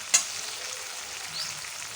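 Ginger paste frying in a pan for a vegetarian jackfruit kofta curry, a steady close sizzle with a sharp clink of the utensil at the start, no voices.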